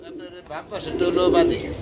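Pigeons coo at a farm selling about seventy pairs, a short close burst of throaty calls rising into a sustained coo, loud, with some voices nearby.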